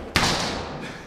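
A football slams into a door indoors with one sharp, heavy thud that rings off into the room, then fades to quiet with a faint later knock.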